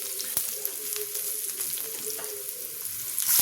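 Garlic dropped into a hot pan fries with a steady, close, bright sizzle that holds evenly throughout, with a few faint clicks and a slight rise near the end; no voices.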